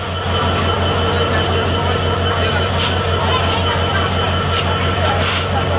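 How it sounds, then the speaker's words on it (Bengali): The Nilsagar Express on the Dhaka to Chilahati route rumbles steadily at a station platform, with periodic wheel clicks and faint squeals over a constant low drone. "গাইস এখন ট্রেন ছেড়ে দেবে"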